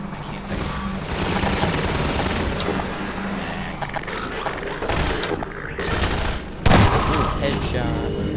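Rapid game gunfire from Half-Life 2: Lost Coast, a steady stream of shots and bursts with a louder blast near the end, continuous and close throughout.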